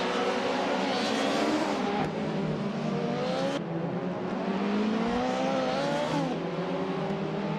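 Race cars in a racing video game scream through a close pack, several engines revving and shifting with rising and falling pitch, loud and continuous, with no voices.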